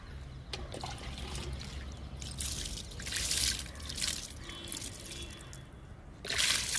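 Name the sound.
water being poured into a container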